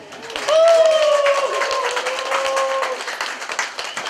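Wedding guests clap during a family dance ritual as the groom kisses, a brisk crowd of hands beneath a sung or chanted voice and music that dominate.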